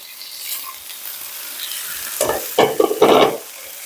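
Mushrooms, carrots and onions are stir-fried in a wok for sweet-and-sour pork: a quiet hiss at first, then several loud, close scraping and tossing bursts near the end.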